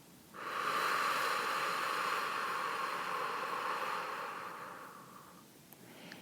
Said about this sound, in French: Et prenez une profonde inspiration en gonflant votre ventre et votre poitrine. Et soufflez en les laissant redescendre.